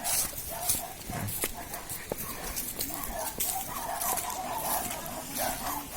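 Dogs bark in the mountains near Siniloan, Laguna, with repeated sharp yaps at a distance blending into a busy outdoor background of rustling and ambient noise.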